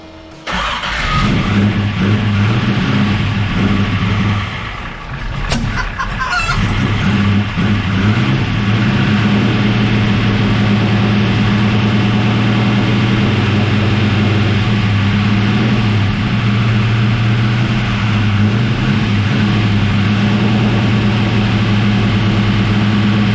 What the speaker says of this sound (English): So I can start the engine from the button.